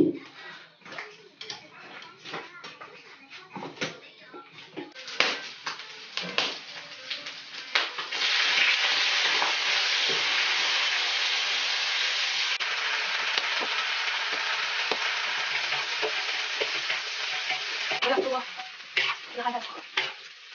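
Cucumber stir-fried in a wok for a home lunch, with scattered clatters of a spatula at first, then a steady loud sizzle that runs several seconds before clinks and scraping return; no talk.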